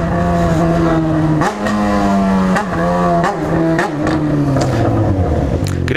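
A car in Londrina's east zone revs hard and steadily, its engine note swinging up and down while the exhaust crackles and pops between throttle blips, loud and close with no talking.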